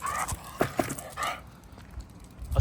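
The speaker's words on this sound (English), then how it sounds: "I suggest you keep your dog under control," A dog during a tense security-guard confrontation gives short, sharp barks and yips with a whimper between, fairly close and moderately loud, spaced irregularly over a quiet background.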